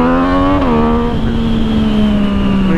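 A motorcycle engine revs hard in first gear, loud and close, a steady high drone that rises slightly, dips sharply, then settles into a sustained roar for the rest of the run.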